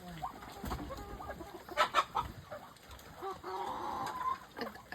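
Chickens cluck and squawk close by in short, irregular bursts, with a rooster among the fowl, while people chat quietly in the background.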